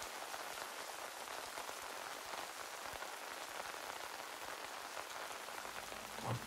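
Steady rain drums densely on an umbrella, a close, continuous patter of drops without pauses.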